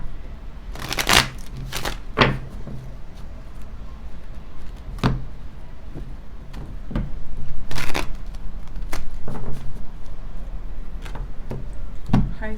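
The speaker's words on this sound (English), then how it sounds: "A few shuffles for Pisces." Tarot cards being shuffled close up: a series of quick riffling bursts and soft slaps at irregular intervals, with quiet handling noise between them and no voice.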